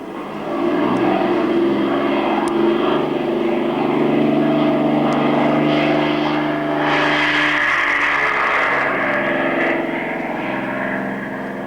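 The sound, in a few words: propeller airplane taking off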